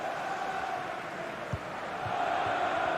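Stadium crowd in a FIFA 23 football match, a steady dense roar of many voices sustained throughout with a brief thump partway, moderately loud and continuous.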